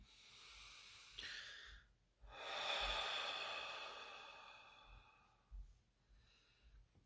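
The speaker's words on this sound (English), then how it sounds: "Deep breath, everyone." Slow, deep breaths drawn during a meditation session, soft close inhales and long airy exhales with short pauses between them, faint and intimate.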